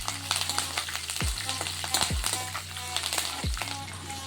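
Green chillies, curry leaves and ginger fry in hot oil for lemon rice, giving a steady close crackling sizzle broken by a few dull knocks at irregular moments.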